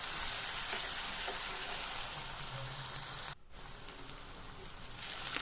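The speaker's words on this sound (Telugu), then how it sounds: "ఇది కానీ పచ్చివాసన పోయేంత వరకు ఫ్రై చేసుకోవాలి." Ginger garlic paste fries in hot oil with a steady, close sizzle that fills the clip, dropping out briefly for a moment before the crackle resumes.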